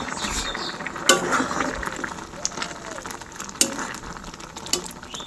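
Cooked, soft dal is stirred lightly in a pot in a modest home kitchen. A spoon scrapes and clacks against the pot in several sharp knocks over a soft, wet bubbling hiss.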